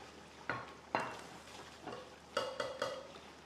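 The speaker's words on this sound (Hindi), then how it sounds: "रेशे वाला जो चिकन है ये इसके अंदर शिफ्ट कर देना है और 5 से 7 मिनट अच्छे तरीके से भुनाई करनी है" Shredded chicken being fried and stirred in korma masala for haleem, with a soft sizzle underneath and several sharp scrapes and clinks of a spoon against the pan.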